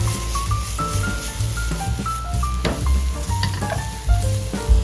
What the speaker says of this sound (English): I just sauteed the pork with a little bit of oil until it's cooked